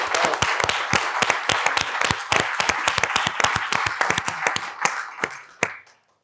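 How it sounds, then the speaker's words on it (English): Applause at an evening donor and corporate partner appreciation event, with distinct individual claps from a modest crowd that thin out and end with a last few claps after about six seconds. "I'd love to give a big round of applause to everyone."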